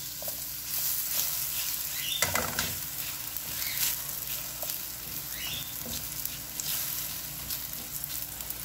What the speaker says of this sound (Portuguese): numa frigideira, vamos colocar azeite. E primeiramente, fritar a banana.